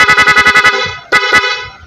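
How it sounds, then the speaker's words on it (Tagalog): A Honda ADV160 scooter's PIAA horn, wired through an interrupter relay, beeps rapidly about eight times in a quick stutter, then two longer honks follow, loud and close. "So, busina natin."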